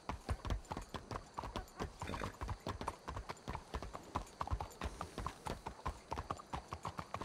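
Steady clip-clop of video game horse hooves trotting at a quick, even rhythm, fairly close and continuous throughout.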